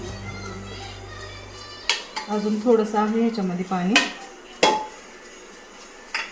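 A pressure cooker of gajar halwa being opened, with metallic clanks of the steel lid and utensils and a brief hiss, while someone speaks briefly in between.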